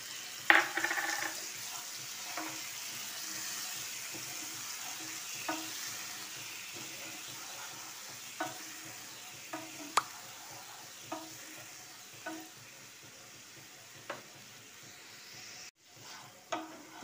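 Water hits a hot frying pan of eggplant and spice paste, giving a soft, steady sizzle through the whole stretch. Occasional sharp clinks of a utensil stirring the pan break in, and no one speaks.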